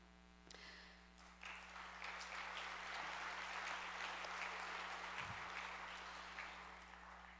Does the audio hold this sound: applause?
yes